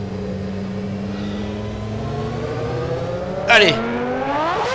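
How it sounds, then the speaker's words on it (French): 1990 McLaren MP4/5B V10 Formula One car in rFactor 2 with the ASR Formula mod, its engine idling steadily and then rising in a sharp rev. Someone speaks briefly near the start. "Allez, mets en marche le V10."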